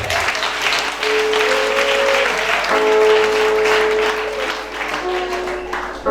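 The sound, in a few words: congregation applauding in acclaim of Jesus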